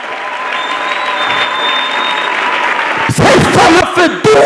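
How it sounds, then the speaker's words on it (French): A congregation at a Sunday church service breaks into loud applause, dense clapping and cheering swelling close by over sustained music. "On acclame le Seigneur très fort."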